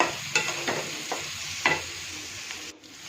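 Tomatoes sizzle and fry in a pan for an okra dish, with a steady close hiss and a few light scraping stirs.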